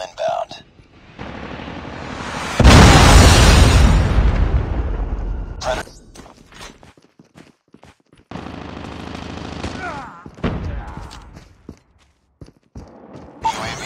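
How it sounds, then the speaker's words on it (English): A predator missile detonates in Call of Duty Mobile as a loud, broad explosive roar lasting a few seconds, set among bursts of gunfire and game voice callouts before and after. "Hostile predator missile inbound."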